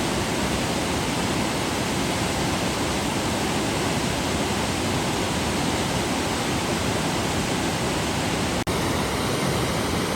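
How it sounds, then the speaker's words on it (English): South Fork Falls, also called Barbara Falls, near Eagle River, Alaska, in autumn, heard as a loud, steady, broadband roar of falling water that continues unbroken throughout, with no voices. "Alright, I made it to the waterfall. So this is South Fork Falls or Barbara Falls."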